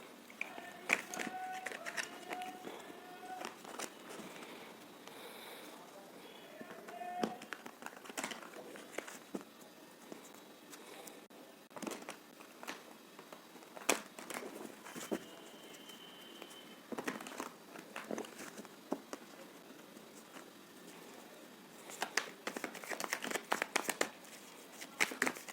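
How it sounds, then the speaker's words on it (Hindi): Tarot cards shuffled by hand for a pick-a-card reading, with repeated soft riffling, flicking and crinkling bursts in an irregular rhythm, close and fairly quiet, no talking. "So let's shuffle."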